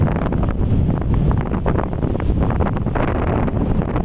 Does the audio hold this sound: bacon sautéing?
no